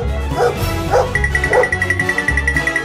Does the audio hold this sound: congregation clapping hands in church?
no